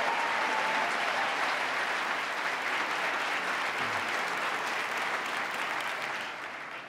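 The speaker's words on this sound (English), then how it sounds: "give him a round of applause for his good work" Sustained audience applause for the Attorney General during a State of the State address, a dense, steady clapping from a large crowd that holds for several seconds before easing off at the end.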